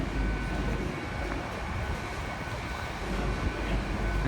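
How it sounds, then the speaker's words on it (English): A Great Western Railway train to Penzance sits at Plymouth station, giving off a steady low engine rumble and hum under a broad, continuous station hiss, moderately distant and unbroken. "That's the Great Western Railway service to Penzance"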